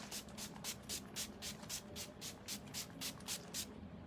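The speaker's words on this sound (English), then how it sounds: "This is where your Time Locker setting spray comes in." Time Locker setting spray is misted onto a face in about a dozen quick, evenly spaced hissing bursts, close and fairly soft, with no talking.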